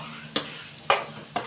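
Chicken gravy being sautéed in a pan, three scraping stirs of a spoon at regular intervals over a low steady simmer, close up with no voices.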